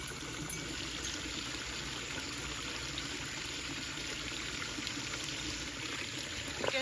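A creek fed by underground springs trickles and flows in a soft, steady wash of water, faint and continuous with no voices.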